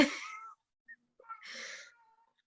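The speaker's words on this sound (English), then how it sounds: "You're gonna have to shut your cat up, man." A pet cat meows twice, close and fairly loud, with a short gap between the calls and a fainter trailing squeak after the second meow; no one talks.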